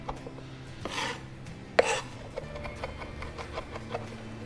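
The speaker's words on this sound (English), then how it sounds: "I'll just run my knife through just as well as we did with our finely minced rosemary" A knife rocks and scrapes through fresh thyme on a cutting board, making soft, rasping chops at an irregular pace, with one sharper tap standing out. The sound is quiet and close, and nobody is talking.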